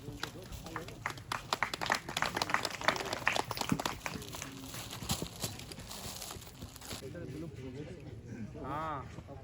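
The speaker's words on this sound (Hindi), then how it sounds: "तालियां, थोड़ी तालियां।" Participants at a natural farming training session in Bara, Rajasthan clap in an irregular burst of hand claps mixed with voices, the clapping thinning out and giving way to talk.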